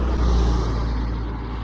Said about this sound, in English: there's the bus behind me. I can hear it coming by now.